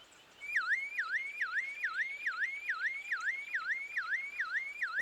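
A bird mimics a car alarm with a clear, repeating warble of rising and falling whoops, about ten even cycles. The calls are fairly faint against quiet background hiss, with no voices.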